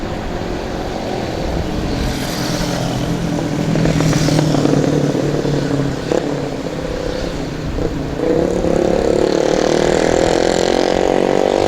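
Motorcycle engine on a mountain road on the slopes of Mount Merbabu, a loud continuous rumble with shifting pitch as it revs and cruises close by, without speech.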